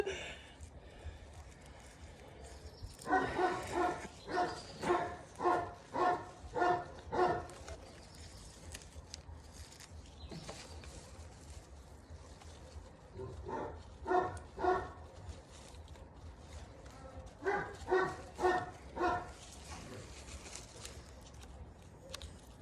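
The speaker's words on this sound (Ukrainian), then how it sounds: "А ти ще гавкаєш." A dog barks outdoors in repeated bursts of several quick barks, with pauses between the volleys, at moderate distance, while birds are faintly audible in the background.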